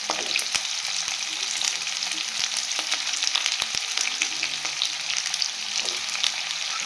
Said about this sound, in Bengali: এরপর আমি দেবো এই ফুলকপির ডাঁটাগুলো যে কাটা আছে এইগুলো দিয়ে দেবো। এটা আর গাজরটা দিয়ে দেবো।